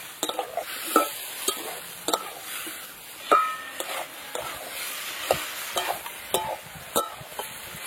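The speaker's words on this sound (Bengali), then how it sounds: "দিয়ে এবার ভালো করে কচুটাকে একটু কষিয়ে নেব।" Mashed taro with turmeric, coriander, cumin and a little water stir-fried in a pan for a fish curry: a steady sizzle broken by repeated spatula scrapes and knocks, close and fairly loud, with no talk.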